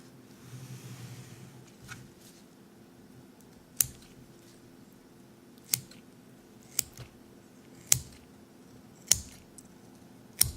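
Scissors snip through pig tissue during a dissection, opening a body cavity: about six sharp, quiet cuts spaced roughly a second or two apart over a soft, hushed background.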